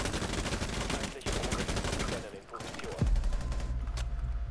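Rapid gunfire from Rainbow Six Siege, a tactical shooter, crackles in dense bursts with a louder shot near the end, while a voice talks over the game audio.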